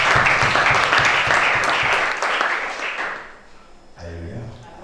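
A church congregation applauds loudly and steadily, the clapping fading after a few seconds as a voice begins to speak.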